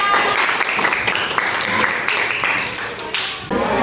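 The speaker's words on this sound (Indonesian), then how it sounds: "Beri tepuk tangan." Classroom audience applauding after a group presentation during a teacher performance test, dense steady clapping filling the room for a few seconds, with some voices mixed in.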